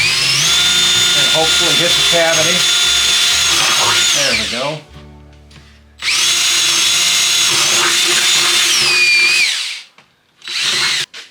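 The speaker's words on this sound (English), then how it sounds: "I'm going to drill a hole" Power drill boring a hole through the wooden back plate of a bat box, a loud steady whine that runs for several seconds, stops, then resumes in two more bursts, with someone speaking briefly between.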